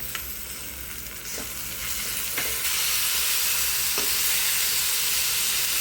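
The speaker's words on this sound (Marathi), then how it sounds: "कांदा चांगला परतवून झाल्यावर त्यामध्ये टोमॅटो ॲड करूया." Onion and tomato fry in a pan for a tendli (ivy gourd) bhaji, giving a steady broadband sizzle that grows slightly louder partway through, with a few soft stirring scrapes and no talking.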